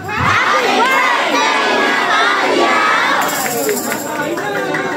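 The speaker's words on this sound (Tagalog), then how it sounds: "Sabay-sabay tayo sumigaw ng happy birthday na tayo in 3, 2, 1, and shout!" Guests at a 15th birthday party shout together in a loud, sustained burst of mixed young voices and cheering, close and crowded, fading slightly at the end.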